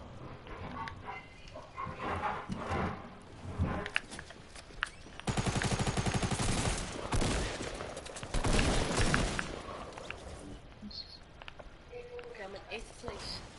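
Automatic gunfire in Fortnite rattles in rapid bursts inside a house, loud and close at times, mixed with game effects and player voices talking over it.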